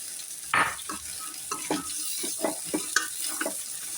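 Cooked kabuli chickpeas are stirred into sizzling fried onions in a pan for chana pulao, a spoon scraping and turning them in repeated close strokes over a steady hiss.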